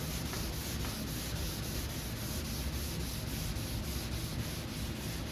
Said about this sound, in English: I'm going to take the next couple hours and wet sand these all down really well